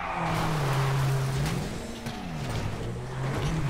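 A car engine in a GTA Online race revs and accelerates, its droning tone rising, dipping and climbing again through gear changes. The engine is loud and upfront, with no other sounds over it.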